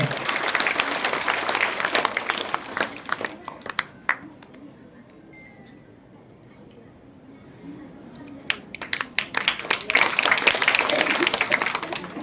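An audience at a women's seminar programme of Sri Kshetra Dharmasthala in Chintamani claps loudly in dense bursts, fades to near quiet in the middle, then swells into vigorous applause again.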